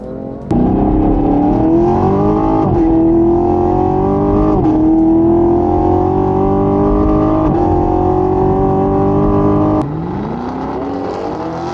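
A BMW F80 M3 Competition with DCT, a Camaro LT1 10-speed automatic and a Challenger 392 T/A 8-speed automatic accelerate hard in a drag race, a loud sustained engine roar climbing through several gear shifts for about nine seconds.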